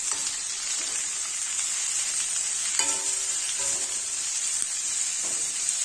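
Four large onions, sliced lengthwise, sauté in a hot pan for a Tamil chicken roast. Steady frying sizzle runs throughout, with a few louder scraping stir strokes partway through, close and continuous without talk.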